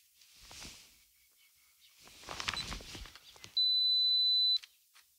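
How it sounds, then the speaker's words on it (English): A Fujifilm GFX 50S II camera's two-second self-timer sounds one steady, sustained high beep lasting about a second, preceded by faint footsteps and handling noise outdoors in fog. "Two-second timer."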